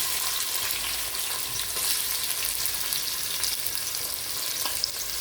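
Steady, bright sizzling of onions frying in hot oil, close and continuous with no voices.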